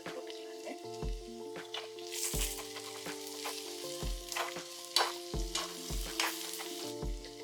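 Curry leaves fry in hot oil in a pan for sundakkai puli kuzhambu, a steady close sizzle broken by repeated stirring scrapes, while soft background music plays.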